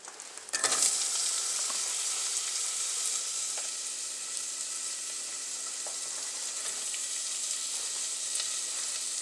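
Celery and carrots sweat in melted butter in a pot, a soft, even sizzle that flares as the vegetables go in and then settles into a quiet, continuous hiss with no voices.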